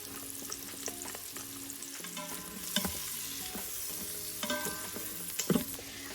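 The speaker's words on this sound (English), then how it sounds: "You can see it all sizzling together here" Minced garlic and shallots sizzle in unsalted butter in a pan, a soft, steady frying hiss broken by occasional scraping and stirring clatter, with no one talking.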